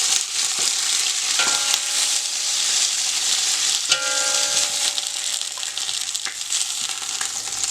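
Veal osso buco sears in a hot pan with a steady, loud sizzle, broken by a few soft clinks and scrapes of stirring.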